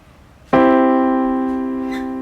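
A harmonious chord of several notes struck together at once, a single clean attack that rings on steadily and slowly fades, alone in a quiet room.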